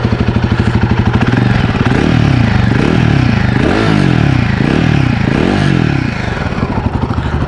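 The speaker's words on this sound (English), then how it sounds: "It's firing up, it's in neutral, let's start it up." A Royal Enfield Guerrilla 450 motorcycle engine runs close and loud, a throbbing single-cylinder thump with a few surging blips of revs before settling back toward idle.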